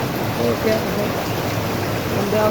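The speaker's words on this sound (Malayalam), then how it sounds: "നല്ല മഴ പെയ്യുന്നതാണ്. അടിപൊളി മഴ." Heavy monsoon rain pours down steadily, a dense, even hiss close by with no break across the whole stretch.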